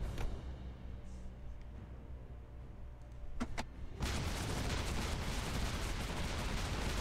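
Gunfire from a Panzer tank attack in the PC wargame Drive on Moscow: a quiet low rumble with a couple of sharp cracks, then a dense, loud burst of continuous shooting and blasts filling the last few seconds.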